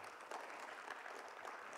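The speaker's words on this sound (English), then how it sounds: "Give him a big round of applause" Brief, faint applause from a conference audience at a Bitcoin event in Berlin, a soft even wash of clapping heard from a distance.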